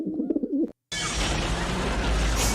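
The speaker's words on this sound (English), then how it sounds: "Actual pigeon sounds." Pigeons cooing, a short burst of soft rolling coos that cuts off abruptly and gives way to loud broadband noise.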